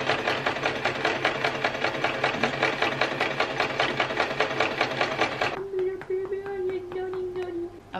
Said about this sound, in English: now I'm gonna sew